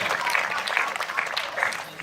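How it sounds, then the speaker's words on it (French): Audience clapping in a cinema theatre at a film premiere, a moderate, steady round of applause with voices talking over it. "Bravo, on applaudit Eden"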